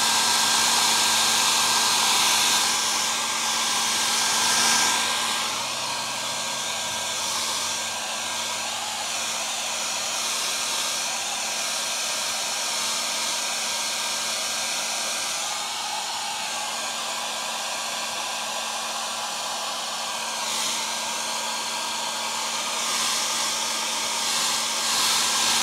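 A hair dryer on a low, warm setting hums and blows steadily at close range while drying paint on a leather steering wheel, a continuous airy whir with a fixed motor tone and slight shifts as it moves.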